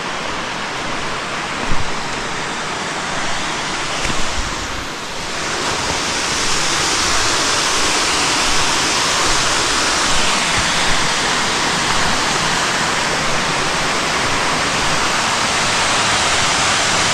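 Steady, loud roar of a waterfall heard from above a steep, slippery descent on a forested scout trail, a broadband rushing wash that holds constant for the whole stretch with only a brief dip early on.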